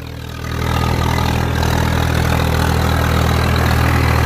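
A Swaraj 855 tractor engine drones steadily while pulling a new harrow across a field, loud and close, with a deep, even rumble that swells slightly at the start and holds without talking.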